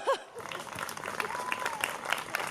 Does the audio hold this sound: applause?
yes